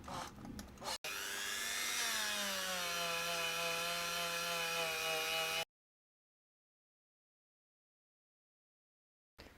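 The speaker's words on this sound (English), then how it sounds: "I'm basically just buffing up the frets" A power buffer whirring on the frets of a Fender Stratocaster guitar, a steady high whine with a sagging lower tone for several seconds, then cutting off into silence.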